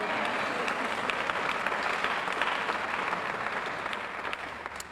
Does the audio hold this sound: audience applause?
yes